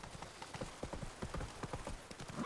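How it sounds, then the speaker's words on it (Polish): A horse's hooves clip-clop in The Witcher 3: Blood and Wine, a quick, steady run of close hoofbeats with no talking over them. "Nieogarnięty koń."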